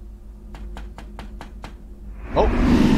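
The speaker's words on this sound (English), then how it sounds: "Oh, someone knocking on the door." Knocking on a door in the game Mystical Riddles 4: Ghostly Park, six sharp, evenly spaced raps in quick succession, followed by a sudden loud rushing swell.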